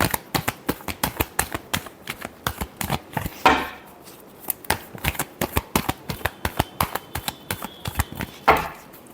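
Tarot cards shuffled by hand in quick rhythmic riffles, dozens of crisp rapid flicks with a couple of louder bridge-like snaps, close and alone.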